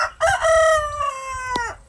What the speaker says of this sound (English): shut up, you silly chicken